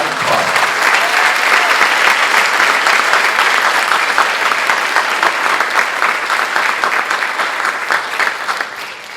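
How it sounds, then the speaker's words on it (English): A large audience at a high school junior academic awards and honor society induction ceremony gives loud, sustained clapping that stays strong throughout, then eases slightly near the end. "round of applause"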